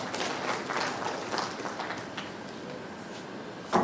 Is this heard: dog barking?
no